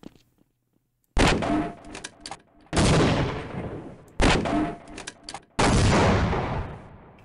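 Four heavy sniper gunshots from the shooter Half-Life, each a loud sharp blast trailing into a long echoing decay, spaced a second or so apart after an initial moment of near silence.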